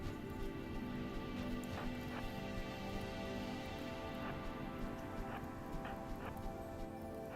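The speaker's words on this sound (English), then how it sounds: "Okay, but the rain is coming," Rain falls in the colony-building video game Rimworld, a steady hiss of rain with scattered pattering drops and light ticks, even and moderately quiet throughout, with no voices.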